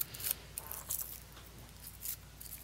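Scissors snipping Swiss straw for fly tying: a few faint, quiet crisp snips spaced out over low room noise, no talking.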